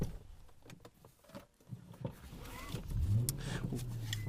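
An Infiniti M45 V8 pulls away from a driveway, a quiet engine note swelling into a low, rising hum near the end.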